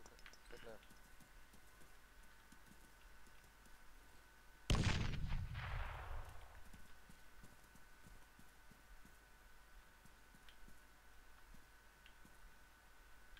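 A frag grenade goes off in Arma 3 with a single sharp, booming blast that rolls away over a few seconds, set against quiet background ambience and sparse clicking.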